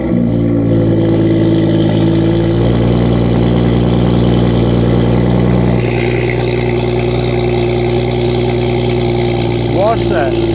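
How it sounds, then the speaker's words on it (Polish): A BMW M2 engine idles loudly through its original BMW exhaust with a deep rumble, steady throughout, its tone shifting slightly partway. "To jest oryginalny wydech BMW"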